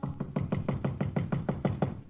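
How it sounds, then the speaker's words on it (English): A steady series of about ten sharp knocks on a hotel room door in an old-time radio drama, evenly spaced, close and crisp, with no voices. "I hear a knocking on my door"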